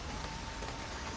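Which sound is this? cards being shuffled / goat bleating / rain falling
rain falling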